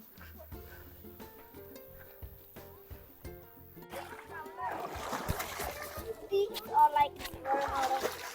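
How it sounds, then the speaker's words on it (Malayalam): People splashing and playing in river water on a Dorset farm outing, loud irregular splashes and sloshing building over the second half, with children's voices mixed in. "എല്ലാവരും വെള്ളത്തിൽ കളിക്കുവാണ്."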